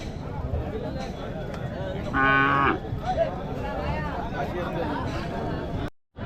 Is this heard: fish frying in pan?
no